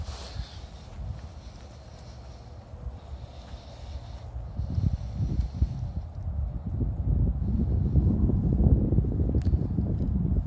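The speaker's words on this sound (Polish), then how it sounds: "bo i taki wiatr ściąga na nas" Low, rumbling wind buffets the microphone outdoors while New Year's fireworks are set off, growing stronger and more continuous toward the end, with faint clattering in the background.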